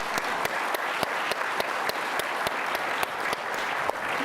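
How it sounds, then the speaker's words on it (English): Audience applause for panelists at a robotics conference, a steady wash of clapping punctuated by a few sharp, regularly spaced louder claps close by. "Let's give a round of applause to our great panelists."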